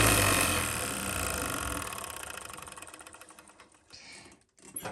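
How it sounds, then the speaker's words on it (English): An industrial serger sewing machine runs at full speed with a dense, rapid mechanical whir that holds steady, then slows and stutters to a stop near the end. "I'm just gonna push it all the way down so you can get a feel for how fast this machine can go"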